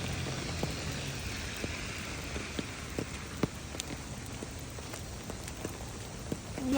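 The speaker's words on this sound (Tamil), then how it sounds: "அமெரிக்காவில் மழை பார்த்தீங்களா?" Steady rain falling in America, a continuous close hiss of drops striking a surface with scattered sharper patters, running alone without voices.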